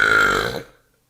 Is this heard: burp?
yes